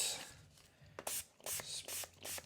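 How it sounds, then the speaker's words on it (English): Short bursts of spray from an alcohol-based MIT Mist cleaner, misted over a jaw harp to disinfect it, several quick hissing puffs close by in a quiet room. "going to disinfect this. This is just MIT Mist. It's an alcohol-based cleaner."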